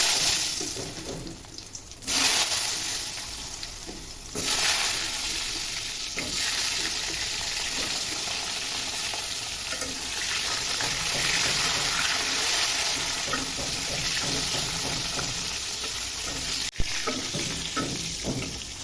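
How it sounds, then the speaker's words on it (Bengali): Pointed gourd pieces fry in hot oil, a continuous loud sizzle and crackle that swells after the pieces are dropped in and carries on steadily with stirring noises. "তেলটা গরম হয়ে গেছে এবার পটলগুলো ছেড়ে দিচ্ছি"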